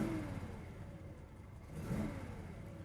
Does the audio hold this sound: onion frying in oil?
no